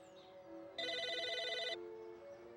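A single trilling telephone ring of about one second in the Psychonauts video game sounds over a quiet in-game background hum, with no speech.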